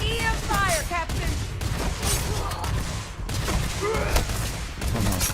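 EM weapon fire in Starfield, rapid bursts of sci-fi gunshots crackling in repeated volleys amid combat noise, with a voice speaking over the shooting.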